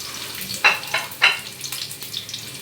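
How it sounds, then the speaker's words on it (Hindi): Garlic and long cut green chilies frying over high heat, a bright sizzle with a few sudden loud spitting bursts and quick stirring, close and without talk. "आँच में तेज़ कर रही हूँ, जल्दी जल्दी से इनको फ्राई करना है।"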